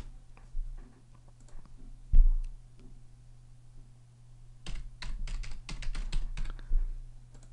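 Someone types a password on a computer keyboard: a few scattered key clicks early, then a rapid burst of close, crisp keystrokes in the last few seconds over a low steady hum.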